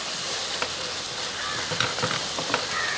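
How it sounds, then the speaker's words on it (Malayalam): Masala paste sizzling in a frying pan for a cauliflower and chickpea curry, a constant hiss with a few soft stirring scrapes, close and fairly loud. "ഇതൊന്ന് ഇളക്കി കൊടുക്കുക"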